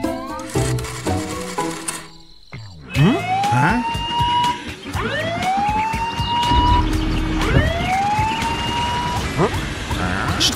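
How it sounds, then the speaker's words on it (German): In an animated children's cartoon, a police car siren wails in repeated upward sweeps about every two seconds, loud and close, over a busy background of clattering noise. "Schnell, einer muss die Streifenwagen rufen."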